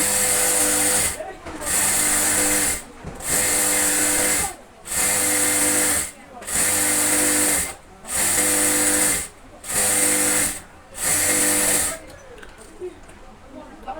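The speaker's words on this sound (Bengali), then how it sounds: "তো আমরা রাবারের উপর মোট 3টে সেলাই দিচ্ছি" A sewing machine stitches elastic rubber, putting three rows of stitches across it for pants or pyjamas; loud close motor whirring runs in about eight even bursts separated by short pauses, then stops into quiet handling noise.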